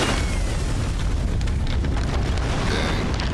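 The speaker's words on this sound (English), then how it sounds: "Every time there was an explosion in this movie" Loud movie explosion with a dense, roaring blast of broadband noise and heavy low rumble sustained through the moment, alone without speech.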